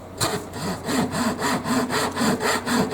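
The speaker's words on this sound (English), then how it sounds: "I'm cutting my wood." A Japanese Zona 24TPI razor pull saw cuts through wood in steady back-and-forth strokes, each rasping pass clear and close, about a dozen strokes in an even rhythm.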